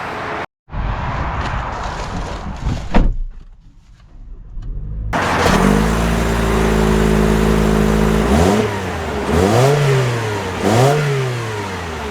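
A 2024 Toyota Corolla Cross crossover pulls away and accelerates, its engine note rising and falling through several revving surges, steady and fairly loud after a brief door or cabin noise at the start.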